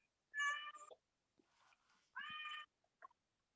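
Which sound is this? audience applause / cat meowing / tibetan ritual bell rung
cat meowing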